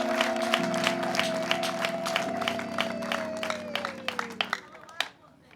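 A church congregation applauds in a steady wash of many hands clapping, with a sustained held tone and background voices underneath, the clapping tapering off near the end.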